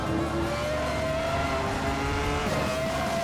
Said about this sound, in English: These were the early days of the sequential gearboxes.